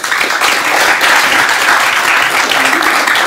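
Steady, dense applause from a live audience at a Dutch tech festival panel on digital politics, a loud continuous wash of many hands clapping throughout.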